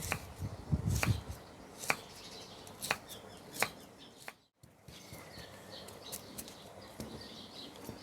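Several sharp, crisp knife strikes against a cutting board, cutting jackfruit into small pieces for a sago dessert, spaced irregularly, with a short quiet gap midway and faint ambient noise around them.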